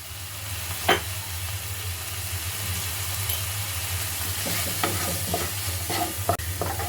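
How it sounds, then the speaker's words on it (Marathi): A spoon stirs a spiced green pea filling for matar karanji in a hot pan, with a steady low sizzle and occasional scraping clicks toward the end. "मिश्रण व्यवस्थित ढवळून घ्यायचे आहे"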